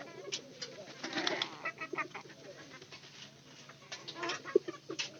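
Three newly laying hens cluck softly alongside cooing birds in a small backyard flock, a busy, moderately close mix of clucks and coos with no talking.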